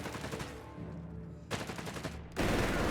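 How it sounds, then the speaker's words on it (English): An MG42 machine gun in Company of Heroes 3 rips off fast, tightly packed bursts at a very high rate of fire, loud and close, with brief gaps between strings of shots. "all they found was an MG42 with its 900 to 1200 rounds per minute"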